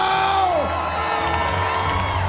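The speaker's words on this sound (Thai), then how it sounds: "ขอเสียงปรบมือดังๆให้กับ มวยคู่นี้อีกสักรอบได้หรือเปล่า" A crowd at a Laos versus Thailand Muay Thai fight cheers and whoops loudly, with a shouting voice rising and falling over the sustained roar of the arena.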